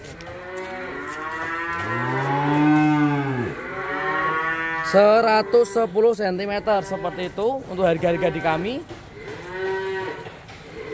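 Limousin and Simmental cattle at a breeding farm moo loudly several times, long drawn-out calls close by, with someone talking over and between them.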